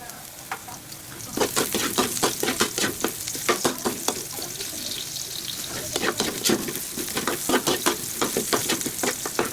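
Chicken pieces hitting hot oil with sautéed garlic and onion for adobo, a loud continuous sizzle broken by rhythmic scraping stir strokes, close up, with no talking.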